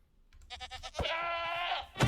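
A goat called a Quantum Goat bleats in the Minecraft game FTB Skies, giving a clear, wavering bleat of about a second after some short clicky game sounds, followed by a brief thump.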